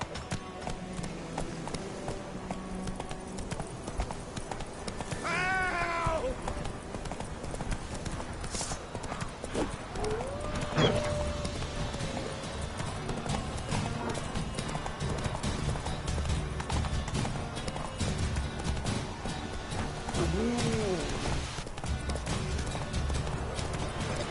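Horse hooves clip-clop at a steady galloping rhythm in the Witcher 3 video game, with brief neighs and a few game voice lines over a continuous background.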